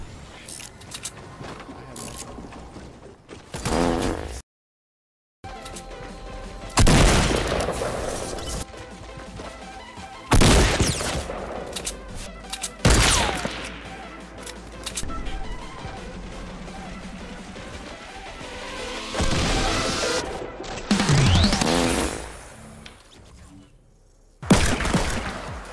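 Gunfire and crashing impacts in a Fortnite duos match, with repeated loud broadband bursts and crashes spread across the clip, including a brief silent gap, amid game effects and music-like tones.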